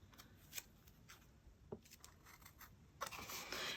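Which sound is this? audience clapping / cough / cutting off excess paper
cutting off excess paper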